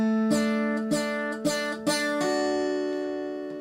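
Solo guitar picks only the melody notes of Cockles and Mussels: four or five clear plucked notes in a slow rhythm, the last ringing out and fading, close and alone.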